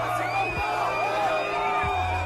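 A public crowd boos politician Macron, a loud sustained wall of jeering voices with bellows and whoops rising and falling throughout.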